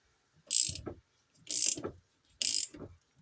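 A wheel stud being tightened on a Yamaha Grizzly ATV, three evenly spaced bursts of close ratcheting clicks, each about half a second long, separated by brief silences.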